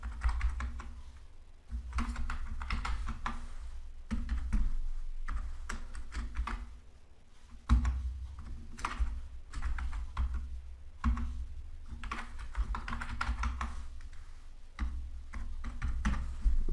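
A billing address is typed on a computer keyboard in quick, close, uneven bursts of key clicks, broken by short pauses, with no speech.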